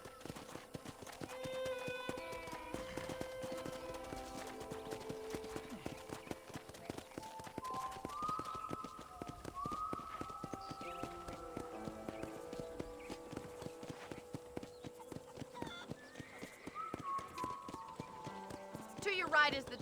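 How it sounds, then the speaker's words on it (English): Horse hooves clip-clopping in the video game Red Dead Redemption, a steady rapid rhythm running continuously beneath background music, with a character's voice talking over it. "let's see if you can still ride a horse"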